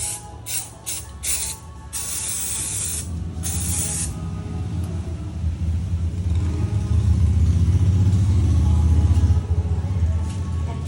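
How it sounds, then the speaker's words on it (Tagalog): Brake or chain cleaner is sprayed onto spilled oil during a motorcycle oil change, in several short loud hissing bursts, followed by a steady low mechanical rumble. "lagyan natin ng brake or chain cleaner para sa mga natapon na oil"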